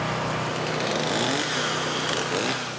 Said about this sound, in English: Chainsaws and generators gave a soundtrack to the relief effort the morning after.